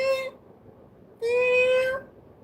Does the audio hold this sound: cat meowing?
yes